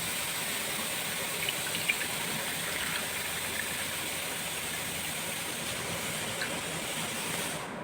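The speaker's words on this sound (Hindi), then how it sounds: "और मैं अगर इसमें पानी डालूं" Water pours steadily into a container, a continuous rushing, splashing wash that holds the same level throughout, close by and alone.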